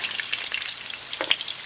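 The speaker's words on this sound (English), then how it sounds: "this chile is coming out already. I have it seared exactly how we need to have it." Jalapeño chiles sear in a hot pan for pickling, a brief close crackle of fat and skin with a few sharp spits over a steady hiss.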